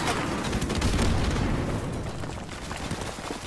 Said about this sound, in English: let me use an airstrike